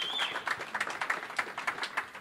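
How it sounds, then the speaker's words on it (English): An audience at a marketing awards event for brand innovators applauds in quick, rhythmic pulses of clapping that sound moderately close but fairly soft. "let's just give them a round of applause"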